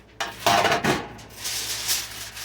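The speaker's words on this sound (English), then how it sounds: "I'm going to get one of my baking pans" A metal baking pan is lifted out and handled in a home kitchen, giving a few close clanks and rattles with a brief scrape at the start, then softer metallic shuffling.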